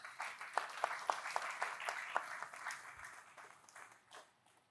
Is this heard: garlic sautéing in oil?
no